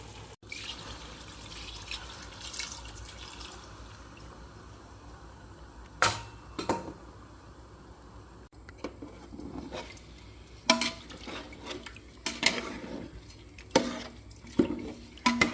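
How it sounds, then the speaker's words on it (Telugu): Water is poured into a pot of fried chicken and Sona Masoori rice for biryani, giving faint splashes and trickles followed by several sharper, louder splashing bursts toward the end. "ఆ తర్వాత వాటర్ పోసేస్తాను"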